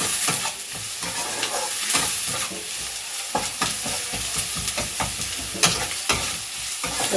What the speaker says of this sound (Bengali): লাল লাল করে ভেজে নিয়ে তারপরে আমি পরেরগুলো দেবো